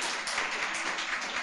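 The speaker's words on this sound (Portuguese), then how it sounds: "Dá uma salva de palmas para ele" A church congregation claps during a sermon, a soft, steady wash of applause heard from a distance with no voices on top.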